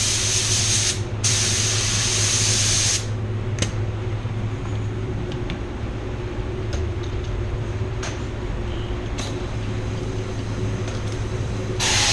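A paint spray gun hisses loudly in two close bursts, then stops, leaving a steady low mechanical hum with occasional faint clicks.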